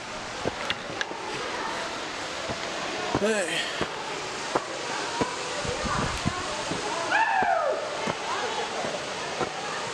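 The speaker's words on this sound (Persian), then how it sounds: "اینجا رسیدیم با آبشار" A waterfall at a tourist attraction in Mashhad gives a steady, broad rushing roar throughout. Brief tonal calls and a few sharp clicks rise above the roar.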